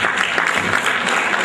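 An audience at an HR summit claps loudly and continuously, a dense near wash of applause filling the whole short stretch.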